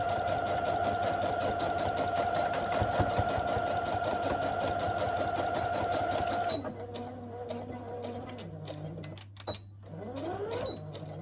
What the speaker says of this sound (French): Je couds et je vous montre une fois que c'est fini.